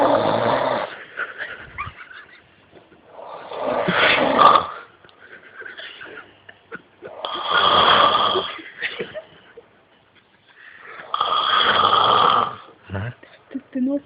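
A man snores loudly in long rasping bursts, four of them spaced a few seconds apart, each a rough rumbling intake that swells and fades, with quiet breathing pauses between them.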